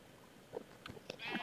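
Sheep bleating in the Minecraft modpack Beyond the Skies, a few short, faint game bleats spaced apart over a quiet background, with a louder cluster near the end.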